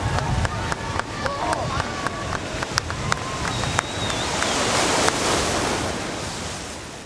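Ocean surf rushes and breaks off Rapa Nui during the Tapati festival, where young people slide on the waves using floats made of totora reed fibers; a steady roar rises toward the end, with scattered clicks and a voice in the background.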